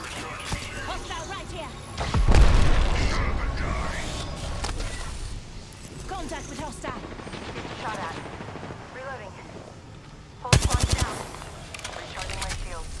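Bursts of automatic gunfire from a multiplayer shooter game, with a loud rapid volley early on and another sharp burst near the end, heard under ongoing team voice chat and game sounds.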